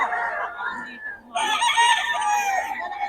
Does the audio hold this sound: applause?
no